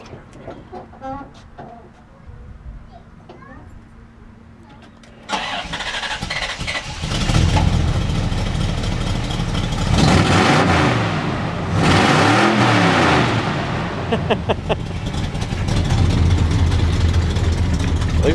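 A 1983 Chevrolet C10 Scottsdale long-bed pickup with 2.5-inch exhaust sits quietly at first, then its engine cranks and fires, and loud, close revs rise and fall over a rumbling idle.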